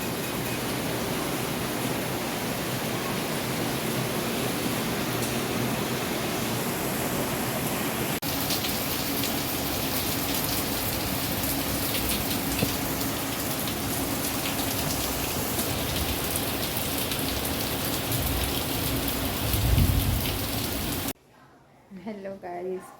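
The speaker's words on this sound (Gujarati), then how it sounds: "વરસાદ આવ્યો આજે મસ્ત, ને થોડોક બી નહીં, મસ્ત ધબધબાટી બોલાવે છે અડધો કલાકથી" Heavy rain pours down steadily on Janmashtami morning, a dense, loud, unbroken hiss that continues for about twenty seconds before cutting away to quieter ambience.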